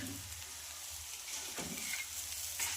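Egg and spinach bhurji with a little coriander is stirred in a hot pan, soft steady sizzling under repeated scraping of a spatula, close and moderately quiet.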